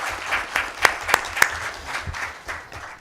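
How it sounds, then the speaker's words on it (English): Applause for panelists at the end of an online panel on sustainable buildings in India, a modest, uneven spatter of claps with a few sharp louder hits, heard fairly close and somewhat thin, as if from only a few participants. "I guess we can all have a good round of applause"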